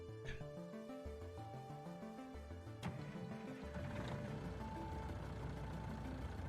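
Truck engine idling and shifting through gears in Farming Simulator 19, a steady mid-volume drone with stepped rising pitch changes and no talk over it.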